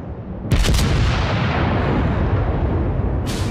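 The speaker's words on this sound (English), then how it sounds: "I've got some fire coming in from that Iowa over there" Naval gunfire from the battleship Iowa in World of Warships lands as a heavy boom with a long, loud rumbling roar that fills the whole stretch, followed by a second sharp report near the end.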